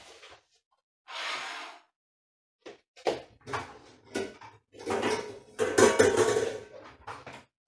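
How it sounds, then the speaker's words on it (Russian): A saucepan set on a kitchen stove, with a series of close metallic clanks, scrapes and knocks of cookware separated by brief silences. "сейчас я поставлю на плиту кастрюльку, чтобы нам создать водяную баню"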